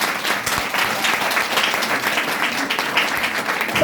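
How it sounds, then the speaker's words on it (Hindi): Steady, dense applause from a seminar audience at a personality development program, many hands clapping loudly and continuously without pause and with no one speaking over it. "एक बार अपने लिए जोरदार तालियां बजा देते हैं।"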